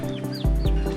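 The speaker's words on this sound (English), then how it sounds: "These turkeys aren't supposed to be over here." Turkeys wandering near a backyard garden plot give a few short, chirping calls over a low rumble, close by and fairly loud for about a second.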